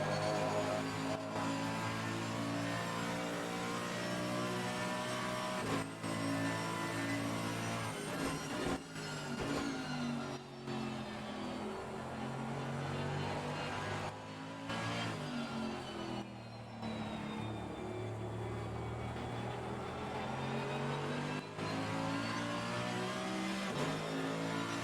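Race cars, a Ferrari closing on a Mercedes, roar through an endurance sim race at Silverstone: steady loud engine drone with rising and falling revs and gear shifts, several cars overlapping, continuous throughout.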